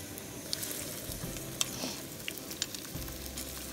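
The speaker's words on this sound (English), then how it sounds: "We are frying bread in olive oil and covering it in honey." Bread frying in olive oil over an open flame outdoors, a faint steady sizzle with a few small crackles and pops, without talk.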